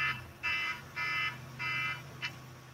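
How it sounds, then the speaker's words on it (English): An electronic alarm beeps in a steady pattern: four fairly loud, evenly spaced tones, each lasting about a third of a second, then a quick fifth chirp, all over a low background hum. "That was supposed to be an alarm."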